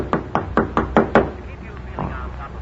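Six firm knocks on a door in an old radio drama, evenly spaced and close, followed by a fainter thud, with no voices over them.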